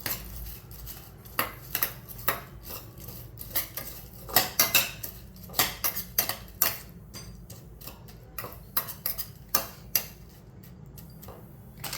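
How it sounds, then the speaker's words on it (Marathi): Spoon stirring food in a pot while cooking a tomato, onion and coriander mixture, giving repeated irregular metallic clinks and scrapes against the pot with no talking. "आणि हे आपण हलवायचं आहे"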